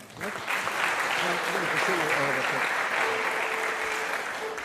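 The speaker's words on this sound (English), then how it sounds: "let's just do one more big round of applause" Applause from a synagogue concert audience greets a klezmer band, a sustained, fairly loud wash of clapping with a voice speaking over it at the start and a brief tonal note later on.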